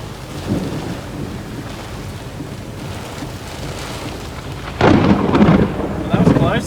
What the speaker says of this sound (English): That was a big bolt right in front of me.